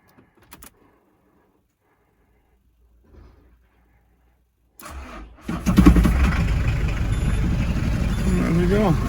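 A Citroen Berlingo 1.9 diesel engine cranks and starts after near silence, then settles into a steady, loud clattering idle that continues to the end.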